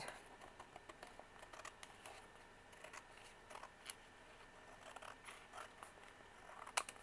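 Scissors snipping paper while trimming a Dollar Tree composition notebook cover, quiet irregular crisp cuts close by, with no talking.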